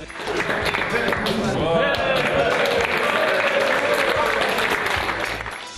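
Applause at a birthday party held in a Turkish hotel, steady dense clapping from a group that carries through the whole clip, with voices talking and cheering mixed in.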